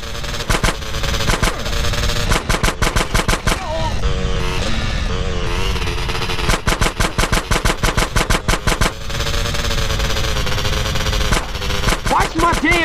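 Rapid gunfire in the video game GTA San Andreas rattles in loud bursts over a dense mix of game sounds and engine noise, broken by brief pauses.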